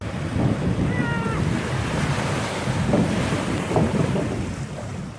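Ocean surf rolls onto a beach in a continuous close wash of breaking waves, heavy wind buffeting the microphone throughout.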